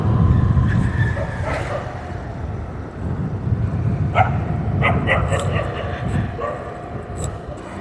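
Several dogs bark and yip at night, scattered barks rising over a loud, steady rumble of wind or traffic, fairly close and repeated at irregular intervals.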